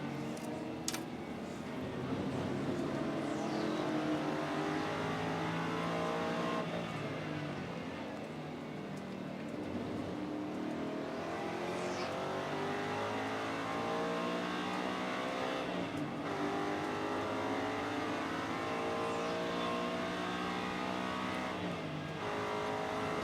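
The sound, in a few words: race car accelerating with slow gear shifts, Sebring International Raceway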